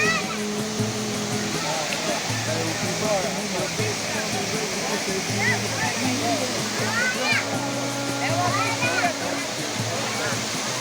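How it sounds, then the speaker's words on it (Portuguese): Roncador waterfall roaring as a steady broadband rush throughout, with people talking and a voice over the water. "Cachoeira do Roncador. Muito bonita."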